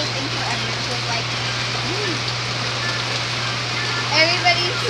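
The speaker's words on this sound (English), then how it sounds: "It's rain day finally." Steady rain falling outdoors on a rainy day, a dense even hiss throughout with a low constant hum beneath and faint voices in the background.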